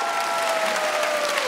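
Audience applause at a comedy show, a dense steady clapping crowd at constant level throughout the short stretch, with a faint tone gliding underneath.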